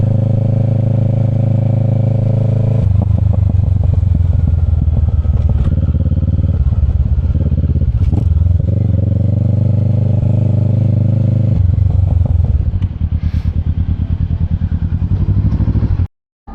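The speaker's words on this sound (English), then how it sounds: "that parallel twin rumble is just amazing" A Kawasaki Ninja 650 with an Akrapovic exhaust idles close by with a deep, steady parallel-twin exhaust rumble, a few brief throttle blips and light mechanical clatter.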